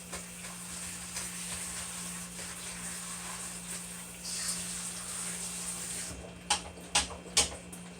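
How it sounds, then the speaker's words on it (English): Tap water runs steadily over okra being rinsed, a soft continuous hiss with a faint background hum, followed near the end by three short clattering knocks. "Rinse my okra"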